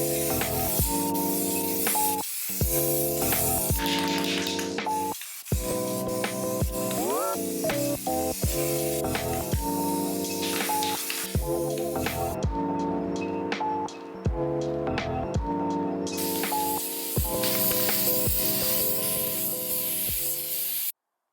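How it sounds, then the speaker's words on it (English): Spray painting the inside of a rusty car rim from a 1995 Toyota Celica with rust paint and primer, a loud close hiss in long steady bursts with brief pauses, under background music. "For the inside of the rim, I'll use this Trem Clad Rust paint and primer."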